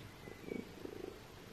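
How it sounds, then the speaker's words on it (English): Cat purring close up in a quiet setting, a soft low rhythmic rumble in short pulsing bursts. "Listen to that purr though."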